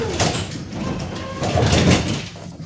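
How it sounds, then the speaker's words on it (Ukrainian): Sliding doors of a Kashtan Kobra tram rumble along their track and bang shut in a sharp, close, loud burst over the car's interior hum. "Як різко двері хлопаються, що можна собі палець розірвати."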